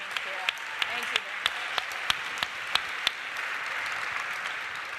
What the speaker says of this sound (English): I think we all owe Maura a huge round of applause for what she's done for the movement of women